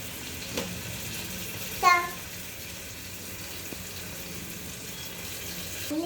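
Chili hits a hot frying pan with a steady, close sizzle and a brief sharper crackle, with a faint voice in the background.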